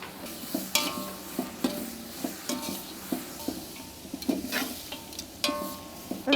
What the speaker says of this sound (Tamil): இப்போ வெங்காயம் நல்லா ப்ரௌனாக வதங்கட்டும்.